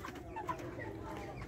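Chickens in an urban henhouse of about 1,200 birds, kept in raised cages with air flowing underneath, cluck and coo softly in a busy, overlapping murmur at low level throughout.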